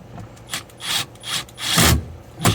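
Screws are turned a few times by hand into wood while fitting a rooftop AC unit to an adventure wagon, giving several short, close scraping and creaking bursts with brief pauses between them.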